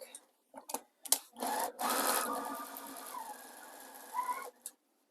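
A sewing machine stitches a raw edge appliqué baby quilt in close, loud bursts of running stitches, stopping and starting between runs, and no one is talking.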